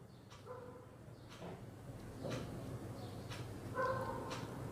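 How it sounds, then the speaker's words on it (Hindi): A dog barks somewhere below and outside, a few faint, distant barks over a low room hum with no one talking. "नीचे कुत्ता भौंक रहा है शायद"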